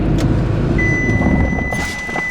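Supercharged ZD30 Nissan Patrol engine revving up steadily, a loud, close, continuous drone with a faint belt whine riding above it and no talk.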